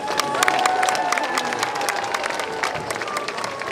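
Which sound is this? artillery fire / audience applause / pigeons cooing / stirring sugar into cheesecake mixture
audience applause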